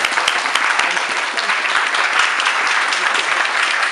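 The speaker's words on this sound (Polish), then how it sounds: "Wielkie brawa dla rodziny państwa Olbrychów i państwa Magotów." An audience at a memorial ceremony for the Cursed Soldiers in Wieruszów claps to welcome families, a sustained, dense round of applause from many hands, fairly close and unbroken.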